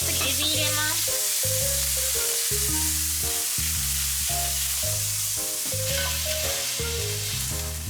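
Shrimp sizzles in a hot pan with shredded pork and ginger, a steady frying hiss with stirring underneath a loud stepping musical backing.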